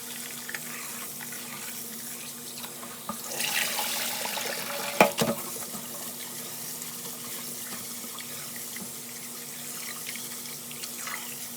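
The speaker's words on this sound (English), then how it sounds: "So I'm gonna just clean my rice." Tap water runs steadily into a kitchen sink as jasmine rice is rinsed for cooking, a continuous splashing flow with a brief louder surge of agitation midway, close and fairly loud, with no talking.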